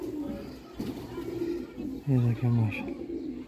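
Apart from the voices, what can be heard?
pigeons cooing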